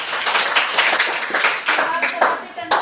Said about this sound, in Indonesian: Tepuk tangan dulu untuk Bunda.